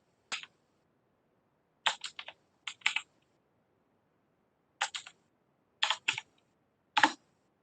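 Computer keyboard typing in a Linux terminal, sparse clusters of crisp close keystrokes separated by silent gaps, clear and isolated with no talking.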